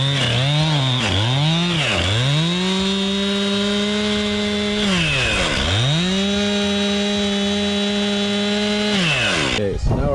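Close and loud, a chainsaw cuts through a tree in long sustained passes, its engine pitch dipping and recovering several times as the bar bites into the wood, with brief revs between cuts.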